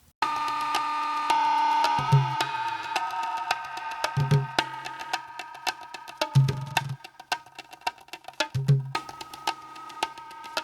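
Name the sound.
granular synthesizer with increasing grain density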